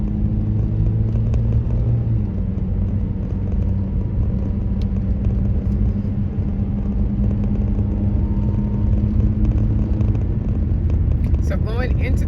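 A car's interior rumbles with a steady low engine drone and road noise as it climbs uphill into the town of Boquete, Panama. The hum stays constant and close throughout.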